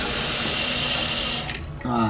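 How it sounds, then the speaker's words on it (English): Rebuilt toilet tank refilling after a flush, with steady loud water hiss from the fill valve that drops away briefly near the end before a tonal hum of flow returns. "Flapper seats, now the tank's gonna fill."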